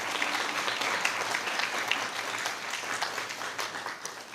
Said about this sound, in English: So if we could please give a round of applause to our future sailors